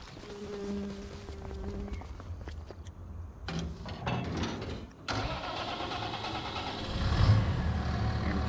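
A farm tractor engine starts and runs, cranking and catching before settling into a steady mid-pitched idle and then revving louder toward the end, heard close up with no talk.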